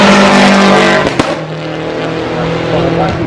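A rally car at the Goodwood Festival of Speed roars past, a loud engine note with a sharp crack and tyre noise, then falling away into a steady drone.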